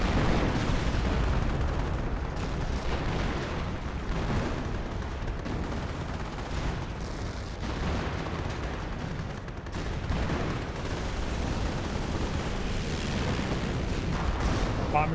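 A creeping artillery barrage rumbles through a Company of Heroes battle with a Panther tank nearby, producing a steady wash of booming shell impacts and gunfire that stays loud and continuous throughout.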